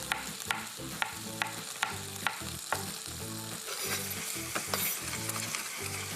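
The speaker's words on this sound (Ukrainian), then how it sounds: "Поки смажиться м'ясо" Meat sizzles and fries steadily in a hot pan for an Italian-style ragout, with repeated sharp clinks and scrapes of a utensil stirring it.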